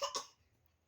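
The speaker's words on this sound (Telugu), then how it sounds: "దగ్గు వచ్చింది." A brief double cough, two quick harsh bursts close to the microphone, fading into quiet room tone.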